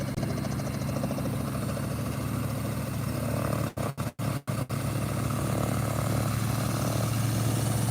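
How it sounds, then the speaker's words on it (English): A Piper PA-28 light aircraft engine running at Elstree Aerodrome gives a steady, mid-level droning hum with a broad rumble. The sound holds constant apart from a few brief dropouts near the middle, and no voices are heard. "This is the British Airways PA-28."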